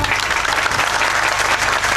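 Men in the audience at a Vitthal Rukmini devotional week program in Bardgaon clap hands in a loud, continuous wash of applause from many people, with no pauses.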